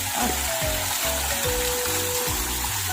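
A small waterfall flows at Wat Phra That Song Duang temple in Mae Taeng, Chiang Mai, giving a steady close rush of water with a rhythmic low thumping beneath it.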